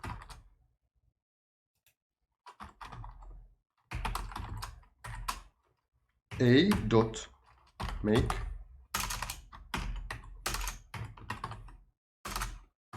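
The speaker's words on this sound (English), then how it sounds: "Well, I have to learn typing now." Typing on a computer keyboard in bursts of rapid clicking keystrokes separated by pauses, close and clear, with a voice speaking briefly among them.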